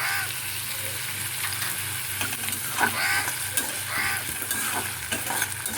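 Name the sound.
tomatoes sizzling while frying in a pan for fish curry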